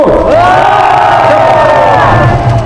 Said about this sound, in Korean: 정규래 TV 박수, MBC 박수, 그 다음에 이 중요한 녹음 파일의 존재를 밝혀낸 조갑재닷컴 박수.